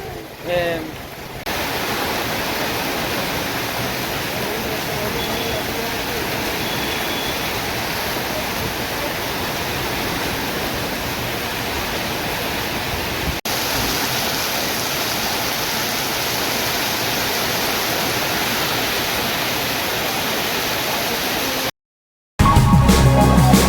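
Rushing water at Omkareshwar roars as a loud, steady broadband wash for over twenty seconds, near and continuous, with a brief cut and a louder burst at the end.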